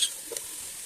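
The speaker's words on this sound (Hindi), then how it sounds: "सब्जियों को ऑयल में फ्राई करेंगे थोड़ा सा" Mixed vegetables frying in oil for mix sabzi, a faint steady sizzle with a brief soft stir or clink partway through.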